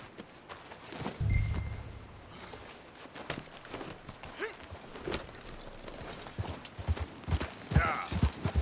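Horse hooves clip-clop in Red Dead Redemption 2, a soft uneven run of hoof steps over ambient outdoor game noise, growing busier toward the end.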